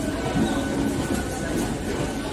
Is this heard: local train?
yes